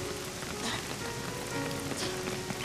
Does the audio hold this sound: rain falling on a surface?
yes